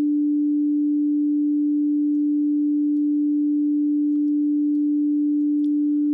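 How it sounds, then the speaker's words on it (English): A Shruthi 1 synthesizer filter self-oscillates as a single pure, steady sine tone, unchanging and isolated throughout with no other sound. "And you hear in the background self-oscillation from the filter."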